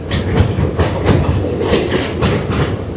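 A train rolling loudly across the Pamban Bridge on the Madurai to Rameswaram line, with steady rhythmic clatter of wheels on the rails and a constant rumbling roar.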